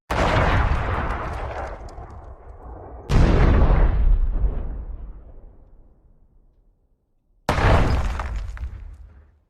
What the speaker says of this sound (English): Then the explosion begins.